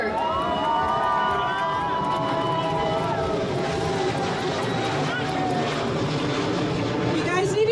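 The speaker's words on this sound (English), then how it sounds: "That airplane drowned you out." Fixed-wing airplane passing overhead during a cultural parade, a broad engine roar rising over a cheering, shouting crowd with people talking throughout.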